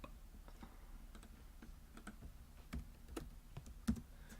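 Typing on a computer keyboard during a Blender modeling session, with a steady run of close, crisp key clicks at an uneven pace and a few louder taps.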